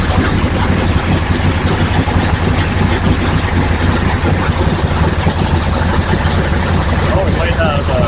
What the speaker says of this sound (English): Ooh, sounds good though. Yeah, it's running real rich.